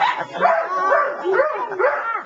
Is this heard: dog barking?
yes